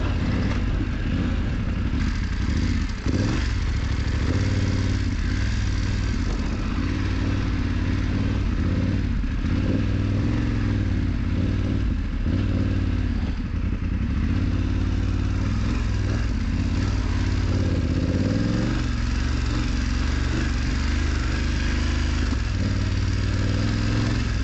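A BMW F 900 GS motorcycle being ridden off-road, its parallel-twin engine giving a steady, continuous drone with slight rises and falls in pitch throughout, close and loud with no talking.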